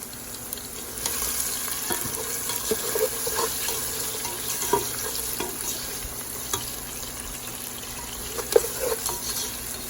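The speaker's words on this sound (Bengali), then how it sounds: "আর এখন আমি পেঁয়াজটা দিয়ে দিলাম, পেঁয়াজটা ভেজে নিব এখন ভালো করে।" Onions fry in a pot for mutton biryani, added to already fragrant spices. There is a continuous loud sizzle with repeated scraping and clinking as the pot is stirred, and sharper knocks come now and then.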